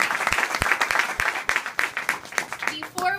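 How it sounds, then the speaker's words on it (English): Audience applause at a kindergarten graduation moving-up ceremony, a fairly close crowd of clapping hands with several sharp nearby claps, fading out near the end as talk begins. "Let's give them another round of applause."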